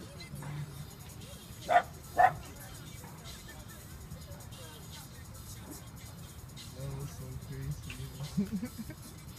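Small dogs bark twice in quick succession nearby, then yip faintly later, over a background of traffic hum and people talking.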